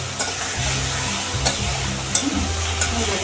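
Shing fish frying in oil in a home kitchen, a constant close sizzle with occasional soft stirring clicks and scrapes.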